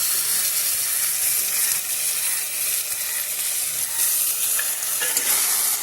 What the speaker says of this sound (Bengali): এবারে বেটে রাখা যে সয়াবিনের যে পেস্টটা ছিল সেই পেস্টটা আমি এর মধ্যে দিয়ে দিলাম